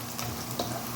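Garlic and ginger frying in a pan, a soft, faint sizzle with small crackles over about a second, heard alone.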